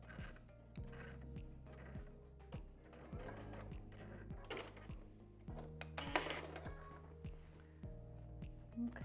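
A sewing machine back stitches on a quilt coat, short bursts of rhythmic mechanical thumping with clicks and fabric rustling, fairly quiet and close.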